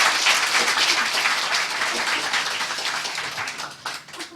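A crowd applauds steadily, a dense wash of many hands clapping that gradually fades toward the end.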